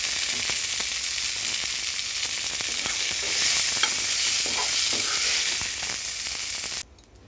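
Mint leaves fry in hot oil in a pan, giving a steady, close sizzle with faint stirring scrapes, running for about seven seconds before dropping off abruptly near the end.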